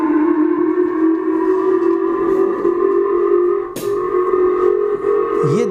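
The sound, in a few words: air raid siren sounding in Japan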